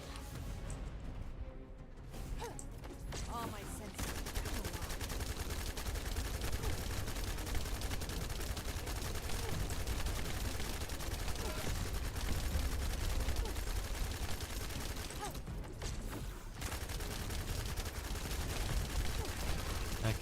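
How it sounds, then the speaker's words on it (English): Sustained automatic gunfire in the video game The First Descendant, a dense, continuous rattle of shots that runs nearly unbroken, with two brief lulls. "I'm gonna spam as much gunfire as I can at him."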